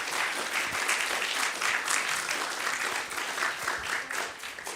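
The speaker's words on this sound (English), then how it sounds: "Let's give him another round of applause." Audience applause for a speaker at a conference lecture, sustained dense clapping from many hands at moderate loudness, steady throughout with no voices over it.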